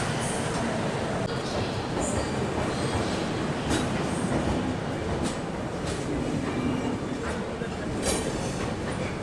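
A train pulls out of Chennai Egmore station bound for New Delhi, its wheels clattering steadily over the rails with occasional high squeals, a continuous close rumble throughout.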